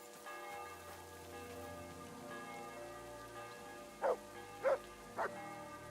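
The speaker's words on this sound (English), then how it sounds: "The church bells, but no people yet." Church bells tolling in the video game Kingdom Come: Deliverance II on a rainy day: three spaced, resonant strikes ring out near the end over a soft, sustained drone and the faint patter of rain.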